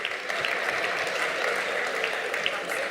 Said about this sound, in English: Give him a big hand